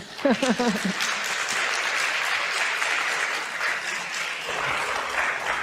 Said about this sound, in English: Let's give him a round of applause so we can get some energy in the room